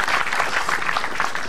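Dense audience applause, steady and fairly loud for a short burst, with no voices over it.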